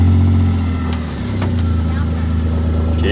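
A farm vehicle's engine running steadily as a ten-year-old boy drives it, a low constant drone close by with faint mechanical clicks and squeaks, and voices talking over it.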